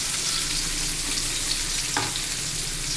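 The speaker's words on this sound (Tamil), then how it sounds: "அடுத்தது வெங்காயத்தை போடுங்க. பெரிய வெங்காயம்" Large onions frying in oil for a buttermilk curry with okra and lentils, a steady broadband sizzle with a light stir around the two-second mark, close and continuous with no talking.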